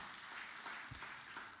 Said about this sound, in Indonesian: beri tepuk tangan yang meriah bagi Tuhan Yesus